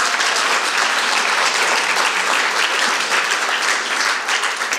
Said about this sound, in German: Gebt ihr doch mal einen großen Applaus nochmal.